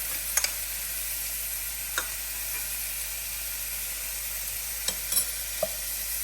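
Peppers, garlic and ginger sizzle steadily in a frying pan, a soft continuous fry with a few sharp utensil clinks and scrapes as the pan is stirred.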